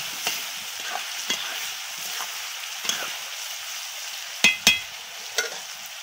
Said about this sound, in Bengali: সবজিগুলো ভালো করে ভাজা হচ্ছে